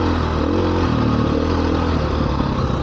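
A KTM dirt bike runs steadily on a Rampart Range trail in Colorado, its engine a continuous loud, close drone with slight revving and clatter and no pauses.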